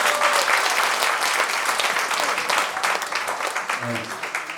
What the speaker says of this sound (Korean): 협조해 주시면 큰 박수 한번 부탁드리겠습니다